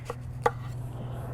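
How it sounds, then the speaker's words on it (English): Kitchen knife cutting into a home-grown Klondike Striped Blue watermelon that splits on the first slice, a few short crisp cuts and a final louder crack, heard close over a steady low hum. "Okay, let's go ahead and cut into it and see."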